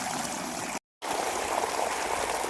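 Irrigation water runs steadily into the furrowed beds of a cumin field, a soft, continuous gurgling flow heard close by, broken once by a moment of silence.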